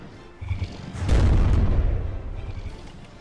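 Explosive shells slam into a tank turret during a T90 versus Type 621 tank battle in the game From the Depths, a heavy booming impact that swells into a rumbling burst lasting a couple of seconds before fading.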